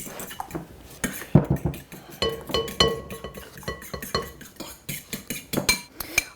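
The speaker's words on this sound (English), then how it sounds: "Erin, do you want to mix up the eggs? Sure thing. Okay, so just give those a mix." Eggs whisked with cutlery in a bowl, a rapid irregular run of metallic clinks and taps against the dish, close and clear without talk.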